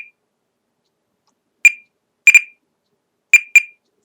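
Stopwatch lap timer beeping in short sharp chirps: a single beep, then three quick pairs spaced over a few seconds, loud and alone against silence.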